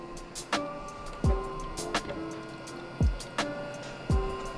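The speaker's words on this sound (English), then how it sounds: "We're gonna pull them out of the water bath now." Vacuum-sealed venison bags lifted out of a sous vide water bath, with a few sharp splashy knocks and dripping water sounds spaced about a second apart, close and moderately loud over a steady low hum.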